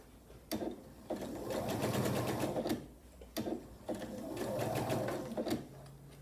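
A sewing machine stitching a scant quarter-inch seam on a glued quilt block, running in two steady whirring bursts of a couple of seconds each, separated by brief pauses and clicks.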